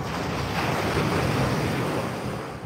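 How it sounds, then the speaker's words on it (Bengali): Ocean waves rolling onto a sandy beach, a loud continuous wash of surf with wind buffeting the microphone, swelling and then easing slightly at the end, with no voices. "ঢেউটাই কি সাউন্ড।"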